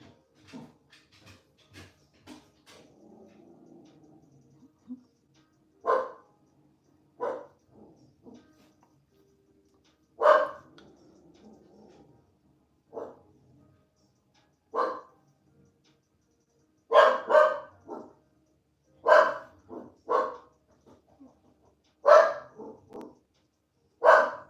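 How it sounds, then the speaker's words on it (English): A pet dog barks alone in a quiet house, about a dozen sharp barks that come singly and in quick pairs, separated by silent gaps, fairly close and loud. "my dog is barking and no one's here"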